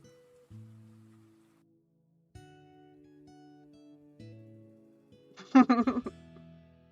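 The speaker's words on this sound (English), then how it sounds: "I do like the rain one because you get the little sound with it as well" A short rain sound effect plays as a brief, loud rushing burst near the end, following soft tonal chimes.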